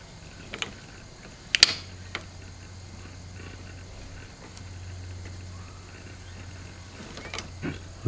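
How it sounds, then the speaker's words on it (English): An industrial sewing machine mechanism with a piercing hook needle running, giving faint low humming broken by sporadic sharp mechanical clicks and clacks, close by with no talk. "this is a little closer view to view the sewing mechanism."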